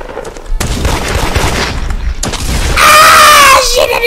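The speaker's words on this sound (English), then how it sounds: "What are y'all shooting at?" Gunfire in a first-person shooter video game, with bursts of rapid shots and booms layered under loud, agitated talk from a player, ending in a sustained bright whine.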